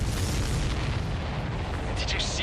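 Deep rumbling explosion in the Ace Combat 7 flight combat game, a sustained loud boom filling the short moment, with a voice briefly speaking near the end.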